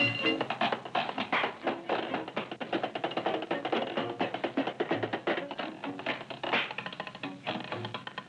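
A young drummer drums on a surviving 1929 Vitaphone short-film soundtrack: fast, dense, crisp strokes and rolls on snare and kit with sharp accents, and no voices.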